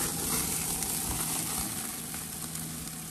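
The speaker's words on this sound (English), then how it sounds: "grilling some hamburgers" Hamburgers sizzle on a grill outdoors at a house, a steady close hiss and crackle that holds at an even level for the whole stretch, with a faint low engine-like rumble running underneath.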